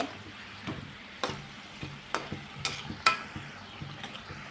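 Samosas deep-frying in oil over a medium gas flame give a low, steady sizzle, broken by several sharp clinks and scrapes of a utensil against the pan.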